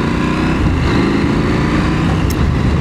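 A 2023 KTM 890 SMT motorcycle riding through town streets around Gouda, Holland, its engine droning steadily and loudly with constant wind and road rumble, no talking.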